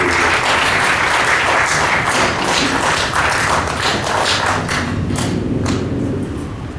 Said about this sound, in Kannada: ದಯವಿಟ್ಟು MC ಆನಂದ್ ಅವ್ರನ್ನ ಒಂದು ಚಪ್ಪಾಳೆ ಜೊತೆ ನೀವೆಲ್ಲ ದಯವಿಟ್ಟು